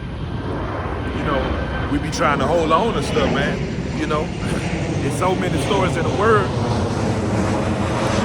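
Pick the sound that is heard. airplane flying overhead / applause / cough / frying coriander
airplane flying overhead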